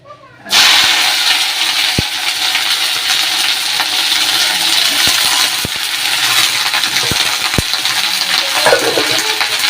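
Okra hits hot oil in a wok with a sudden loud burst of sizzling, then a dense, continuous spluttering hiss dotted with sharp pops and clicks, close and intense, with a voice speaking faintly near the end.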